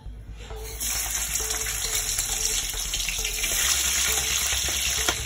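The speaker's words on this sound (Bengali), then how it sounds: "আমার তেলটা মোটামুটি গরম হয়ে গেছে। তো আমি একটা একটা করে মাছ ছাড়া শুরু করি।" Giant freshwater prawns drop into hot oil and burst into a loud, bright, continuous sizzle after a brief quiet start, frying for a prawn malai curry.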